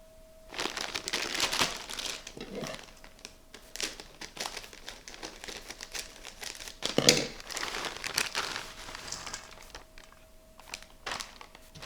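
A 450 gram plastic bag of roasted, salted jumbo Virginia peanuts crinkles and rustles close up in irregular bursts of handling, with one louder crackle partway through.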